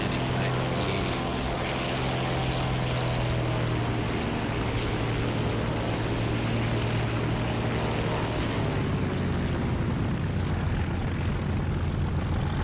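A FW 190D-9 piston fighter in War Thunder drones steadily through a landing, its propeller engine note holding loud and even before the pitch and roar ease off near the end.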